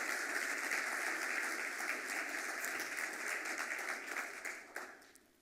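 Sustained applause from an event audience honouring a student entrepreneur at a showcase, steady broadband clapping that holds for several seconds before tapering off near the end.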